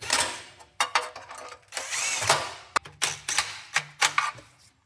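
An impact driver runs bolts on a diesel transmission pan, giving short close bursts of rattling hammering with brief pauses between each bolt.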